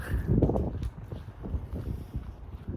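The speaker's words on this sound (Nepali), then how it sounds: "हावा मात्र लागिरहेको छ" Cold wind gusting outdoors, rumbling buffets against the microphone in uneven bursts, fairly close and moderately loud, no talking.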